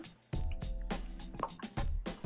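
Acrylic paint poured from high up lands in a few wet, splattering bursts, with soft drips and squishy liquid sounds between the louder pours, close by.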